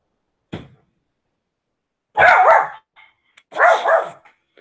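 A dog barks nearby: one short yip, then two louder barks spaced about a second apart, with silence between.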